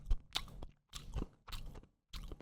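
A voice imitates chewing and eating a steak and cheese sandwich: four short, wet, crunchy mouth bursts, close and fairly quiet, with brief pauses between them.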